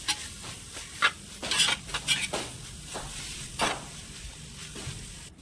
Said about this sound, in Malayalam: ഇതെല്ലാം കൂടി നന്നായിട്ട് മിക്സ് ചെയ്ത് കൊടുക്കണം